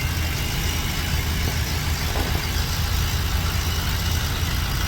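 A car engine idles after a spark plug and intake manifold repair, with a smooth, even, steady hum that is close and fairly loud, with no misfire gaps and no talking.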